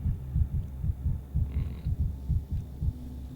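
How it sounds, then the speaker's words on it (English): A patient's heartbeat in the video game Pathologic 3 during a medical examination, a quick, regular series of deep, muffled thumps in close succession over a low hum, heard alone without talk. "Heartbeat's too fast, but that could be a personal trait."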